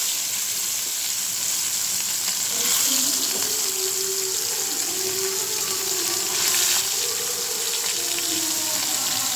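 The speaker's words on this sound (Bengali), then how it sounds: "এখন মাছটি ভেজে নেব" Small mola fish frying in a pan, a steady loud sizzle with a watery hiss running throughout, no voices over it.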